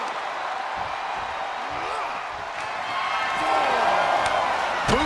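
A WWE 2K26 arena crowd roars steadily at a wrestling match, a dense wall of cheering that swells louder toward the end, with faint whoops and thuds from the ring.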